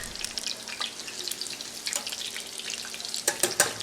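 Wild boar pieces coated in panko breadcrumbs fry in hot oil, giving a steady close crackle and sizzle with sharp bright pops and spits, the loudest bursts near the end.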